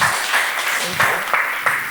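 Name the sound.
audience applause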